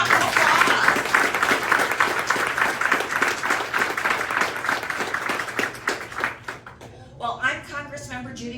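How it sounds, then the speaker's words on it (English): Audience applause at a community health fair fills most of the clip as dense, steady clapping, thinning toward the end, where a voice begins speaking over the last few claps. "So let's give her another round of applause."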